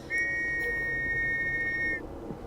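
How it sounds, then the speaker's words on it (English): A single clear, sustained whistle sounds in the video game Assassin's Creed Syndicate, lasting about two seconds over a low ambient background before it stops. "What was that whistle for?"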